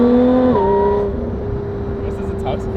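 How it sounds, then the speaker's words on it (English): A supercharged race car downshifts: its loud engine note and whine snap down in pitch twice in quick succession, then hold a steadier, quieter tone with faint clicks. "the downshift gives you that real quick, sharp."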